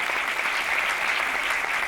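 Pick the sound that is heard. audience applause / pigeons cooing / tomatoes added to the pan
audience applause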